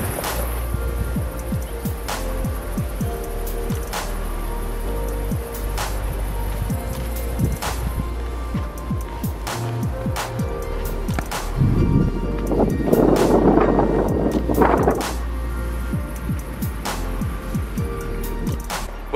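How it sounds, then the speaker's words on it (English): Coastal wind near Archers Knob, a steady broad rush with buffeting against the microphone, plus rustling that swells louder late on. "It's windy"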